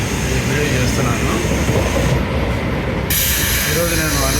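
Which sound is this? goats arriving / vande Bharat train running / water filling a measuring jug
vande Bharat train running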